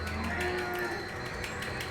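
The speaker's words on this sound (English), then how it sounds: "Cow." A cow lets out a single sustained moo, loud and close, with a steady low tone held for about two seconds and no voices over it.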